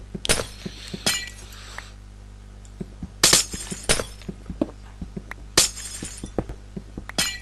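Minecraft glass blocks shattering one after another in a survival world, with several bright, crisp breaking bursts spaced a second or two apart and small clinking debris ticks between them, fairly close and clear with no talking.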